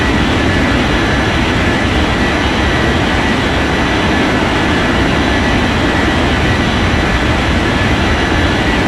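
Airliner taking off in the air traffic control game Unmatched Air Traffic Control: a loud, constant jet engine roar with deep low rumble and broad hiss, steady throughout with no voices.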